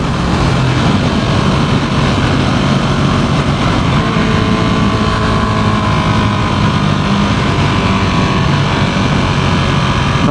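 Continuous loud wind and road roar while riding a motorcycle, a dense unbroken rush with engine hum underneath and no pauses.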